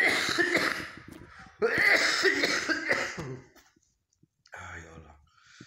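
A person recovering at home during COVID-19 self-isolation coughs in two rough bursts, close to the microphone, followed by a quieter throat sound after a pause.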